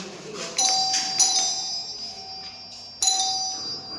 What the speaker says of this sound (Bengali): এটা কলিং বেল